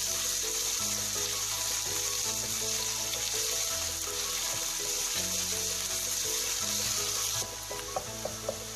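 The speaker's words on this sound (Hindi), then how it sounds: "अब इसी ऑयल में प्याज डालूंगी। प्याज को हम सौते करेंगे।" Onions sauté in hot oil for masala bhindi, a steady close sizzle with occasional spoon stirs and scrapes against the pan, continuous until the frying quiets near the end.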